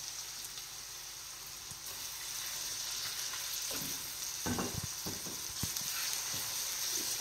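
Boneless chicken frying in a pan for chicken fried rice, a soft, even sizzle that grows slightly louder, with a few stirring scrapes and clatters toward the end.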